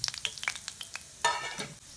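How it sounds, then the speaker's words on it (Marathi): Mustard seeds and cumin tempering in hot oil for a raw mango chutney, a run of sharp scattered pops and crackles, then a brief louder burst of sizzling that quickly dies down. "फोडणीची तयारी चालू झाली आहे आणि तेलामध्ये राई आणि जिरं टाकलं आहे"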